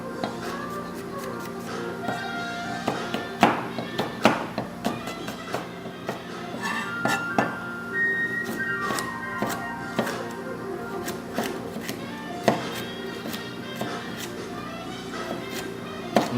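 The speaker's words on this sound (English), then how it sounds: "So now we just chop up our peppers." A knife chops bell peppers on a cutting board with steady, irregular taps in a kitchen, fairly close, while music plays in the background.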